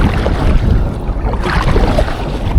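Heavy wind buffets the microphone on a kayak at sea off Cebu, Philippines, in loud, continuous gusts with a rough, roaring rumble and no voices.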